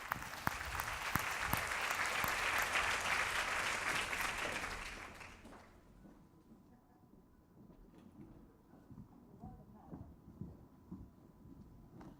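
An audience claps warmly to welcome a panel at a CEO gathering, dense applause for about six seconds that cuts off into a quiet room with faint rustling and shuffling.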